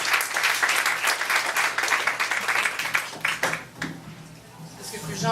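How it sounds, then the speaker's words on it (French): Audience applause for guitar and vocal performers at a third-anniversary evening, a lively burst of clapping from a room full of people that thins and fades out, with voices audible in the background. "On l'applaudit, mesdames et messieurs."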